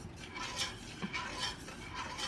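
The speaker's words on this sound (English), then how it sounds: "what I'm going to do is just stir this up" A spoon stirs oat milk into flour and plant-based butter in a pot, a steady soft scraping and sloshing with faint clinks, close and continuous.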